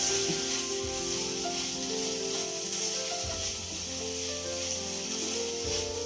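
Okra frying in oil in a home kitchen pan, a steady broadband sizzle running continuously under a low hum, with a few faint clinks and no talking.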